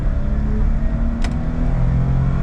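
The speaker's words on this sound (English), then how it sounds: "I'll gun it. I'll actually put it in L so we get some more speed. But here's an acceleration test." Small car in low gear accelerating uphill in an acceleration test, a loud, steady engine drone and road rumble close by, without a break.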